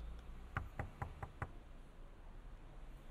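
Five evenly spaced knocks on a door in a pizzeria indie horror game, fairly faint and hollow against a quiet background hum, then silence.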